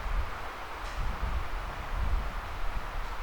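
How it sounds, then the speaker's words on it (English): Strong wind roars through the woods in low, gusting rumbles with a broad rustling wash, buffeting steadily and fairly loud throughout. "Today it's very, very windy. You can hear the wind."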